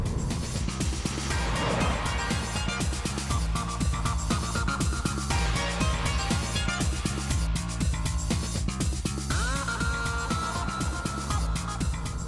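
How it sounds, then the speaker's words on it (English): A Subaru WRX boxer engine thrumming while being driven hard: a low, rhythmic, pulsing drone heard from inside the car, steady with shifting throttle and a few changes in pitch. "All you get is a boxer thrum when you really thrash it"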